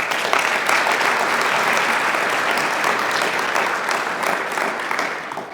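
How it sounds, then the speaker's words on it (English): Loud, dense applause from a summit audience during a closing plenary and awards ceremony, sustained evenly for the whole stretch with no talking over it. "give applause to all of you to participate in the summit"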